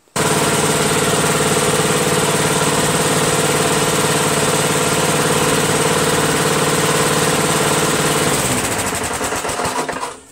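A Craftsman Eager 1 self-propelled lawn mower with a Tecumseh engine runs loud and steady up close, a buzzing drone that holds even for several seconds before wavering and cutting off at the end.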